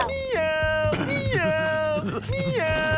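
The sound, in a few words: cartoon character imitating a cat's meow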